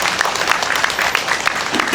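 An audience at a memorial ceremony for COVID-19 and vaccine victims applauds after a speech, a dense, steady wash of clapping throughout, loud and close.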